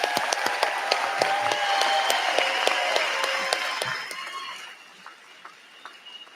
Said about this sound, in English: Can we get another huge round of applause for our final group of graduates?